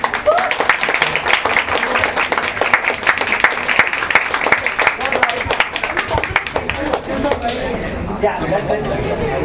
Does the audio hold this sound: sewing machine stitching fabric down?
no